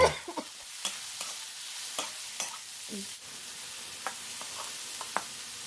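Mushrooms stir-fried with lemongrass and shallots in a pan give a quiet, soft sizzle, broken by sharp spatula scrapes and clicks every second or so, with no voices.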